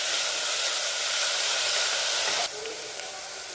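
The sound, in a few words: onions sautéing in a pan for prawn kulambu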